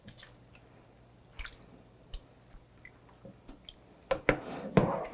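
Smoked fish and meat being rinsed in water while cooking a Ramadan meal: soft, sparse drips and small splashes, then louder wet squishing and sloshing toward the end.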